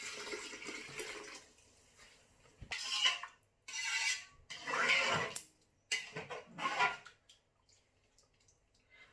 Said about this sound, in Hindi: अब हम इसमें जो चनों का पानी था वो हम ऐड करते हैं